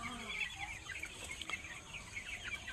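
Fourteen-day-old broiler chickens on a poultry farm cluck and chirp continuously, a dense flock chorus of overlapping calls filling the whole stretch without any talking.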